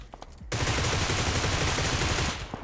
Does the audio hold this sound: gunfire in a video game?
yes